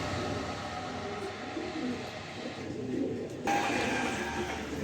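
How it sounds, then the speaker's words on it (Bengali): A pair of racing pigeons of the maxi breed coo softly at close range, their low throaty calls repeating over a steady background rumble. "এখানে এক পেয়ার মাক্সি কবুতর দিলাম"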